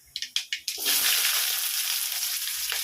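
Mustard seeds pop a few times before onions hit hot oil for prawn thokku, then a loud, steady sizzle of frying carries on up close.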